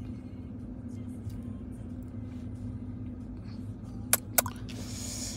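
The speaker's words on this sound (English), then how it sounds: "I want my car to warm up a little bit before I start moving." A car engine idles to warm up in the cold, giving a steady low rumble throughout, with two brief sharp clicks near the end.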